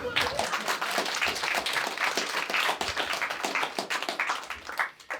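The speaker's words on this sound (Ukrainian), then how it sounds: "Хто там аплодує? Давайте всі разом ще." An audience at a stand-up comedy show in Lviv claps steadily, a close, dense patter of many hands that swells and then thins toward the end, with no speech over it.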